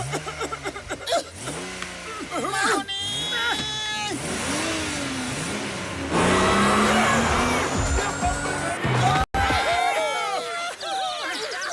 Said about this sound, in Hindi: कार रुक नहीं रही है यार